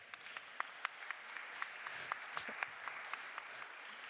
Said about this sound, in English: You now behave very well under applause.